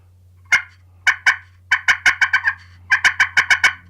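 A slate turkey call scraped slowly with a striker gives a run of sharp, raspy yelps, first spaced out, then quicker and bunched in groups, close and fairly loud over a faint steady low hum.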